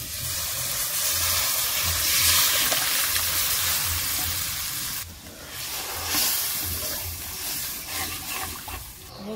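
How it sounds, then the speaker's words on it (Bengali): Boiled kalai dal added to a pan of spices, ginger-cumin paste and chilli powder, hissing and bubbling loudly in a continuous steamy sizzle that drops briefly midway, then picks up again as it simmers close by. "সেদ্ধ করা কড়াইয়ের ডাল দিয়ে দিচ্ছি।"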